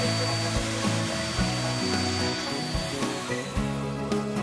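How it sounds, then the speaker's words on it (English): A power router whines and roars up close, its pitch dipping and rising as it cuts a chamfer along the edges of end-grain wooden cutting boards, with brief changes in load. "Now I'm routing that chamfer into the edges of the boards."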